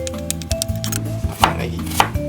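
A knife chops shiitake mushrooms on a cutting board, a handful of sharp, uneven taps close by against a low steady hum, with no talking.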